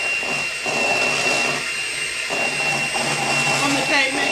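An electric hand mixer whirs steadily on slow speed through pineapple upside-down cake batter in a bowl, a continuous close motor hum with slight variations as the beaters move.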